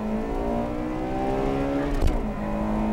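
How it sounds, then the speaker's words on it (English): Two Honda Integra Type R cars, a 1996 and a 1998 model, accelerate in a quarter-mile drag race, a steady loud engine drone with a rising harmonic whine and a brief burst around the middle. "a quarter mile race between the 96 and 98 models. Hey, not a bad start."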